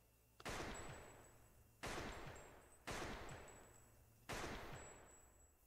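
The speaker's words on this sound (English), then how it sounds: "He shot it four times." Four loud gunshots ring out from the Attack on Titan anime, each a sharp blast with a long decaying echo, spaced about a second apart, with no talk over them.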